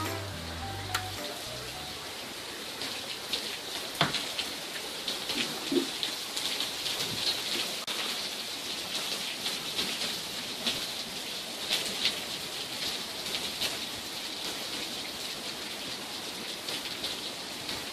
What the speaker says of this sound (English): Day two this week of heavy rain.